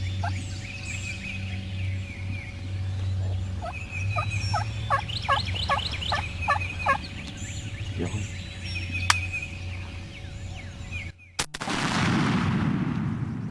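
A wild turkey on a hunt gobbles in a rapid rattling burst amid outdoor ambience, followed a few seconds later by a single sharp, loud shotgun blast and its ringing decay.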